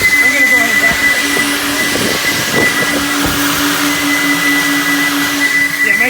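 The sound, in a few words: JE Adams Turbo Vac car wash vacuum cleaning a car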